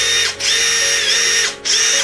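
A Makita TD172 impact driver running on a Yasuka 1.5Ah battery gives off a loud, close, high-pitched whirring whine that stops briefly twice and starts again right away.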